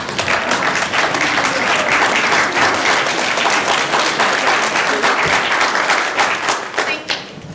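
A room full of people applauds at a gathering honoring military service members and their families, dense steady clapping that carries on loud for several seconds before tapering off at the end.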